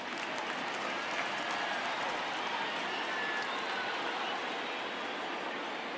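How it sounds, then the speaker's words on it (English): Baseball stadium crowd in an MLB video game during a Yankees versus Red Sox matchup, a steady broadband roar of cheering and applause at moderate distance, sustained evenly without pause and no speech. "Crowd gets up for the 3-2."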